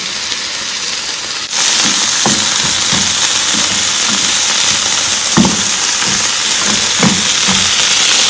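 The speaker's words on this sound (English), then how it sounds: "You saute it for 1 more minute, and then you put the top here." Plantain and onions sautéing in a pan with salt, a loud steady sizzle that jumps up abruptly after a quieter start, with intermittent scraping and clinks from stirring.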